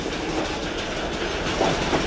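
A train runs along the narrow-gauge Volga line in Portugal, its steady rumble and clickety-clack of wheels on rails carrying on loud and close throughout, with no voices.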